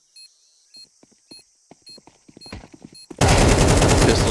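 Rapid pistol shots and automatic AK rifle fire from a Counter-Strike 2 match, starting as sparse sharp cracks then building into a sudden loud, dense burst of gunfire with no talk.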